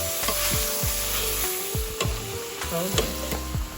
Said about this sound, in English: while our meat is browning